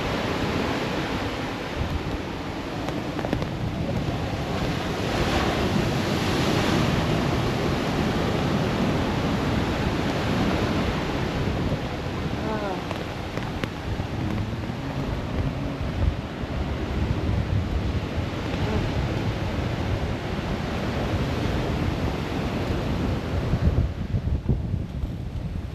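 Strong wind buffets the microphone on a beach at Aguadilla, Puerto Rico, a steady loud roar with surf washing beneath it, continuous for the whole stretch without talk.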